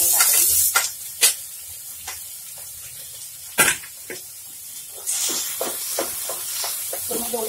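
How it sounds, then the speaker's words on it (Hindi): Tomato goes into a pan of sautéed vegetables with a sharp hiss, followed by intermittent sizzling bursts and stirring clinks while someone talks over it. "अब मैं इसमें भी पहले टमाटर डाल दूंगी, इसमें टमाटर गलेगा"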